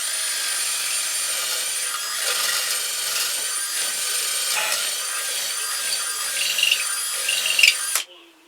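A drill bores steadily through wood for a carved wooden ventriloquist dummy, a continuous close whirring grind that runs for about eight seconds before stopping abruptly.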